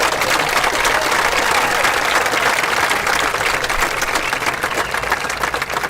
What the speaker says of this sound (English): How about another round of applause for this amazing group?